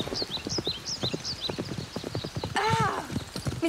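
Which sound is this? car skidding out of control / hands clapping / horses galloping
horses galloping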